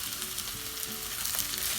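Boiled corn and vegetables stir-fry in a hot pan for spicy paneer fried rice, a bright continuous sizzle with faint scrapes of stirring, close and without talk.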